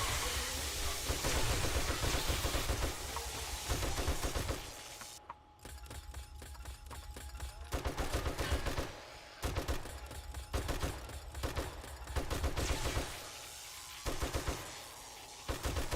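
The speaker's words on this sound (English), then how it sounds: "This is a perfect time for a turret." An automatic turret firing in 7 Days to Die, with sustained rapid bursts that stop and restart several times, mixed with impacts and game noise.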